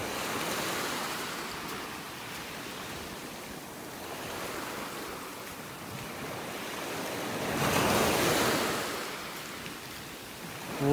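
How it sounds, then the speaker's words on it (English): Waves roll onto a beach in North Naples, Florida, a continuous soft surf hiss with one fuller breaker surging up around eight seconds and fading back, wind in the background and no voices. "Love the sound of those waves."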